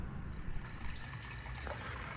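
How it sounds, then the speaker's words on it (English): Water fills and trickles into an aquaponics basin with basil plants and molly fish, a steady close splashing flow that runs without a break. "this is what it looks like when water is filling the basin"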